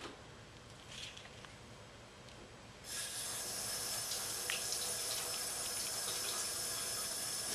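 Cold water runs loudly from a sink tap as carpet samples are washed off under it, starting softly and then becoming a steady, close rush from about three seconds on, with no talking.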